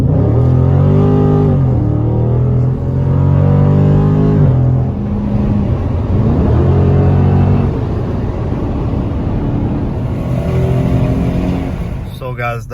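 A 2019 Dodge Challenger Scat Pack accelerates in short runs, its engine note climbing in stepped rising sweeps, loud and close, then easing off into road rumble, with a voice talking over parts of it.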